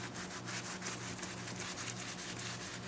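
A microfiber cloth wiping the bumper of a 1997 BMW E36 M3 sedan: close, quiet, rhythmic rubbing strokes repeating steadily, with no talk.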